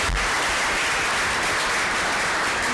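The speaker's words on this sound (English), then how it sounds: "we need to give them another round of applause" Loud, sustained applause from a forum audience honoring a panel, a thick continuous roar of many people clapping at close range without a break.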